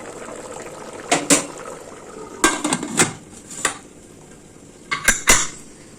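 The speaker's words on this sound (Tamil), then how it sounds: "இந்த ஸ்டேஜில் நம்ம மூடி போட்டு வெயிட் போட்டுலாம்" Several sharp metallic clanks and clinks as a lid is set down and a weight dropped onto a pressure cooker of tomato rice, scattered over a faint low background hiss.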